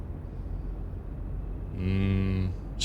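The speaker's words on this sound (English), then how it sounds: "Look at the cows." Cows in a truck driving video game let out a single drawn-out moo, fairly close and loud, rising over a steady engine drone.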